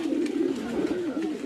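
Old-generation male pigeons bathing give soft, repeated cooing calls, a warbling low rhythmic coo rising and falling several times in quick succession, close and fairly clear.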